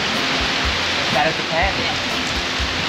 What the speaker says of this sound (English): all of the rain is flowing in from the end